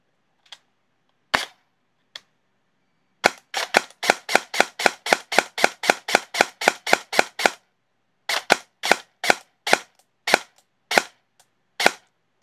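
A gel blaster with a T238 39K brushless motor fires on semi-auto, giving a long string of sharp, close snapping shots, first in a fast even run and then more spaced out, with no voices.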